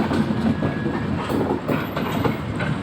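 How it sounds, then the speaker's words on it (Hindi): Hamsafar Express 02569 train on the Darbhanga to Delhi route running steadily, with a continuous loud rumble and rhythmic clickety-clack of wheels over rail joints throughout. "ये ट्रेन इस साइड आ चुकी है"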